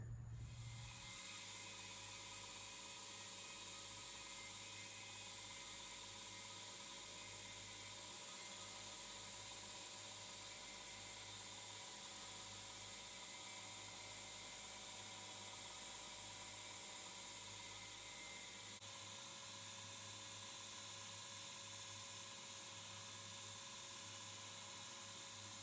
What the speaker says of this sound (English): I can now move over to the grinder and get the final profile dialed in